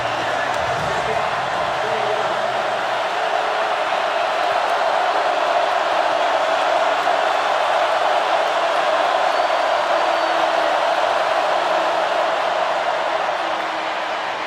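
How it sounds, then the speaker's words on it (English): A loud, steady roar from the football stadium crowd at Kentucky versus Florida fills the stretch without a break, with a commentator talking over it. "This crowd's getting loud."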